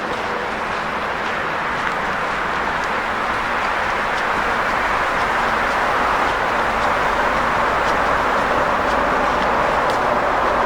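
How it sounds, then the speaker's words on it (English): Steady traffic roars from Interstate 81 behind a bridge over Swatara Creek, a constant broadband rush of vehicles heard from a walking trail, loud and unbroken with no talk. "Interstate 81 is behind us, so you're hearing that traffic as well."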